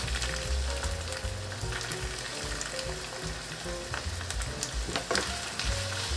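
Mixed vegetables sauteing in about a quarter cup of olive oil over medium-high heat, a steady close sizzle and crackle with occasional stirring scrapes throughout, no voices.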